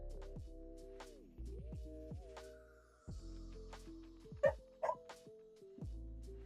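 A dog barks and whimpers indoors, with a few short yips and whines standing out over sustained electronic tones and a hum, the sharpest burst coming near the end.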